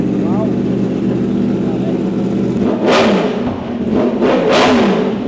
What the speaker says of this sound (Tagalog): pansin yung tunog niya, naka-cross-plane engine kasi to, cross-plane crankshaft